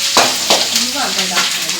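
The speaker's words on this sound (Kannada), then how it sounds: "ಇವಾಗ ಶುಂಠಿ ಹಾಕ್ತಾ ಇದ್ದೀನಿ." Ginger goes into a hot, sizzling tempering for pongal, loud close frying crackle with stirring scrapes and a few sharper bursts as the pieces hit the oil.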